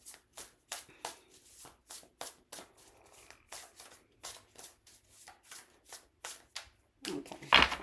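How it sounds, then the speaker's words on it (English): A tarot deck being shuffled by hand close up, a long series of soft papery riffles and taps in an uneven rhythm, ending with a louder rustling as the deck is cut. "I'm going to cut the deck"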